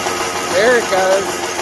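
A two-stroke motorized bicycle engine running on E85 fuel idles steadily, a little more controlled now, with a voice briefly sounding over the engine.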